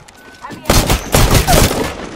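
Rapid bursts of gunfire in the battle-royale game Apex Legends, several loud close volleys in quick succession over a low background rumble.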